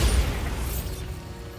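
Bombarda explosion spell in Hogwarts Legacy, a single booming burst up close that decays into a rumbling, mechanical tail.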